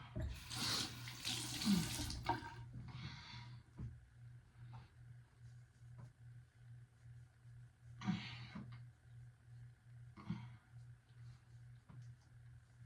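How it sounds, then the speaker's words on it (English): Tap water runs in several bursts while hands are rinsed at a sink during a morning routine: loud splashing at first, then shorter gushes over a steady low pulsing hum. "Let me rinse my hands out."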